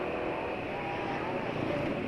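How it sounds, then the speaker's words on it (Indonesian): An automatic motor scooter's engine hums steadily while riding, a smooth, even drone with road and wind noise, fairly loud and unbroken, without talking. "Suara mesin sekarang juga halus."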